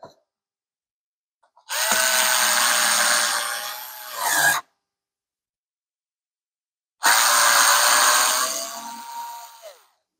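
Twelve-year-old Skil cordless screwdriver driving a screw, two loud whirring bursts of a few seconds each separated by silence, the motor note dropping as the screw seats.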